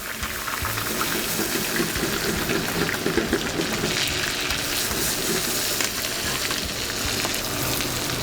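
Ricotta gnocchi laid into hot butter in a pan, a steady loud sizzle and crackle that runs throughout with no talking.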